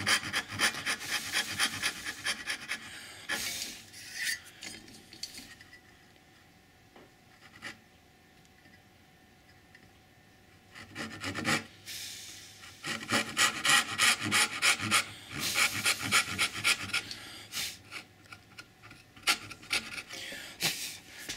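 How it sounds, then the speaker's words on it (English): Dovetail saw cutting half-blind pins in pine on a hand-tool candle box, heard as close rhythmic rasping strokes in several bursts separated by quieter pauses. "that's all I can do with the dovetail saw as far as the half-blind pins go"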